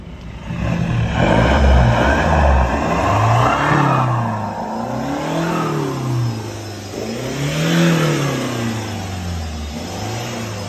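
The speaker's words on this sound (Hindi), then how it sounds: "it's turbo based engine because ये डीजल है जो इसके अंदर विस्लिंग नॉइज़ है" A modified Hyundai Creta turbo-diesel engine revs repeatedly, rising and falling in loud sweeping pulls with a turbo whistle riding above the engine note, up close and without talk.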